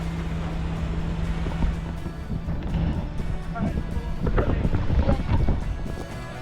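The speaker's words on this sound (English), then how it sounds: "Very windy." Strong wind buffets the microphone in a continuous rumbling roar aboard a monohull sailboat underway at sea to Dominica, with some indistinct voices and movement noise mixed in.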